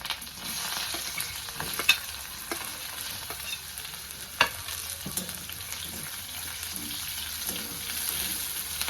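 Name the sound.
onion frying with ginger and garlic in a pan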